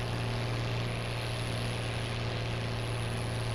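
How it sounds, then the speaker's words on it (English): A steady, droning tractor engine hum from an MB Trac in Farming Simulator 17, with a low constant tone, running evenly throughout without pause. "Listen to the roar of the MB track."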